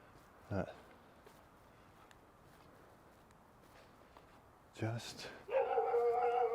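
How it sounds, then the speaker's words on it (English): A dog barks outdoors on an Osaka spring evening street, with a single sharp bark early and a couple more later at a moderate distance, followed by a loud steady tone. "that dog is going nuts earlier and not happy now too"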